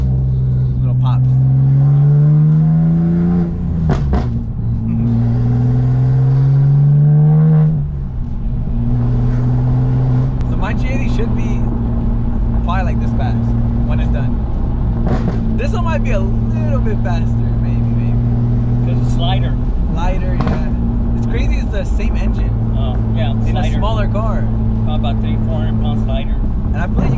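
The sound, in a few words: 800hp BMW M2 engine and exhaust pops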